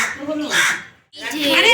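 Crows cawing close by at an outdoor picnic as they are fed rice, two loud harsh calls separated by a brief pause.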